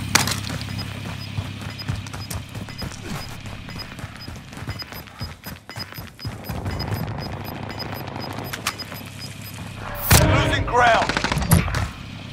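Pistol gunfire in the video game Call of Duty: Modern Warfare, scattered sharp shots over a busy battlefield background, with a louder burst of fire near the end.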